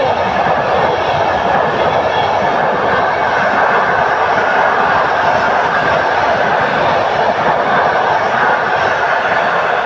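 An EU160 electric locomotive hauls the Intercity Pobrzeże passenger train past at close range, a loud, steady rolling roar of wheels and carriages sustained throughout.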